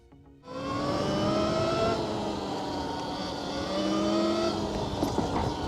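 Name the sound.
REXX T01 72V electric dirt bike riding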